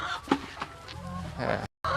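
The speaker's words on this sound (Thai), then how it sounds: "นี่ครับไก่ก็จะไข่ในนี้ครับ" Chickens cluck at an organic egg farm run by a community farming enterprise in Phetchaburi, Thailand, with a few short clucks coming through under a man's close, steady talking.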